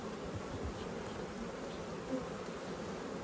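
Honeybees buzz steadily around an open beehive being worked early in the morning, a continuous, fairly quiet hum of many insects with no talking.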